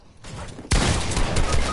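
Gunfire in Fortnite erupts suddenly after a quieter start, a dense loud volley of rapid shots that carries on to the end.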